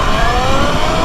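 A KO-motor e-bike pulls hard at full throttle on an eighth-mile run, giving a loud, steady motor whine with rushing wind, close and unbroken for about a second.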